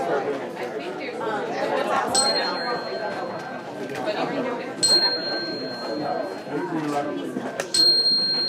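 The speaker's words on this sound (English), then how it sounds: "Smile and look at me if you heard the bell." In a church hall at a Sunday morning brunch service, small bright bell dings ring out three times, spaced a few seconds apart, over a constant murmur of crowd chatter.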